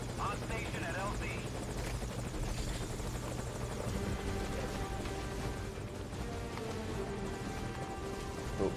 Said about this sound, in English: Come on, chopper. Oh, here it is.